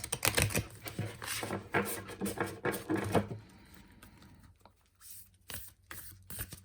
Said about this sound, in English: Shuffle the cards first.